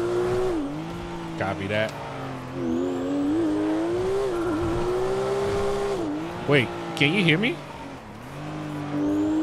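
Car engine from GTA 5 roleplay, a loud steady drone with shifting revs and brief squeals near the end, running under someone talking.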